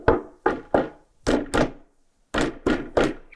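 Hand knocking on a wooden table in an apartment, a series of about nine dull, close thunks in an uneven rhythm, some in quick pairs, with brief gaps and no talk.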